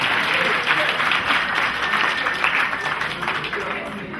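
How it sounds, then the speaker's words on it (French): Guests at a wedding ceremony applauding for the bride, a continuous room-filling round of clapping with some voices mixed in, sustained throughout. "Applaudissez pour Vanessa"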